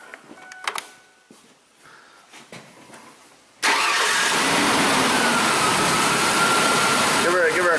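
Mazda B3000 pickup engine with a lean misfire: a few quiet clanks and a brief voice at first, then the engine cranks and catches abruptly, settling into a loud, steady idle up close with a slight uneven roughness.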